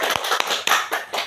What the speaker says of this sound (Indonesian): Kita tepuk tangan dulu untuk anak Yuli.